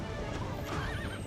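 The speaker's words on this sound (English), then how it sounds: "Oh, why does the horse slow down?" A horse whinnies and clip-clops in the Zelda: Twilight Princess video game, a loud close neigh over running hoofbeats, heard alone.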